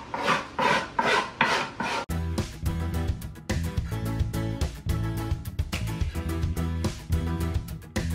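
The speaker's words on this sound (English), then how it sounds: "Now we're going to clean up all of our rough cuts with a file so we don't get any splinters." Hand file rasping over rough-cut wood edges while building a generator quiet box, a steady series of scraping strokes up close, loud and with no talking.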